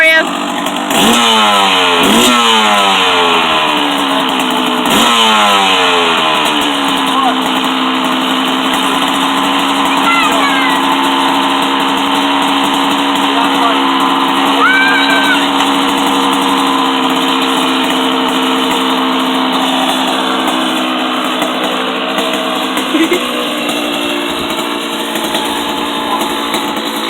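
A dirt bike engine buzzes loudly and continuously, with a few sharp revs at the start settling into a steady high idle, while people shout close by.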